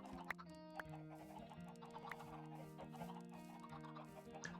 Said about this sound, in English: I will breed up these chickens